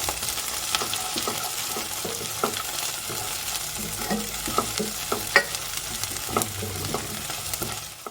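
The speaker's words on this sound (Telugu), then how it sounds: "ఇప్పుడు వీటిని కూడా మంచిగా ఫ్రై చేసుకుందాం" Long-sliced green chillies frying in oil for a thick mutton curry, a close, steady sizzle with stirring scrapes and small clatters throughout, no voices.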